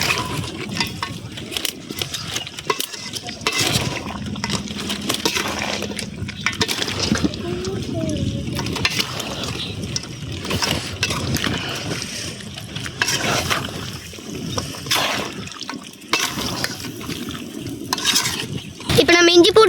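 Chicken curry cooks in a pot over an outdoor fire in a forest, with intermittent scraping stirs and sizzling bubbling, while people talk over the cooking.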